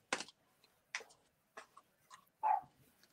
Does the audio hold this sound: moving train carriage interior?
no